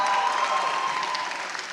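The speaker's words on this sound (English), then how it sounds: "Give yourselves a round of applause." Graduation ceremony audience applauding, a dense, even wash of many hands clapping that holds steady and only begins to thin at the very end.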